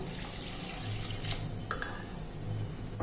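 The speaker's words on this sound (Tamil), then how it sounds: "இப்போ இது வேகிறதுக்கு நம்ம கொஞ்சம் தண்ணி ஊற்றிக்கிடுவோம்." Water pours into a pan of sautéed vegetables cooking on the stove, a steady splashing stream with a hiss, fairly close and continuous for about three seconds, no talk over it.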